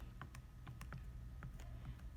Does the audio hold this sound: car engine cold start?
no